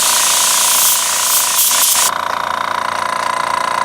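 A Master Airbrush TC-40T airbrush compressor runs with a steady motor hum and airy hiss, then shifts midway to a quieter, pulsing mechanical rattle as the flow changes.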